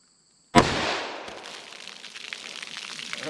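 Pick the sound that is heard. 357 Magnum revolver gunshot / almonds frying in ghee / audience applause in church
357 Magnum revolver gunshot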